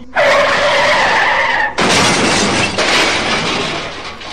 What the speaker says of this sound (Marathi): शेवटी ती वेगधारी गाडी जाऊन थेट रस्त्याच्या बाजूला असलेल्या झाडावर आदळली.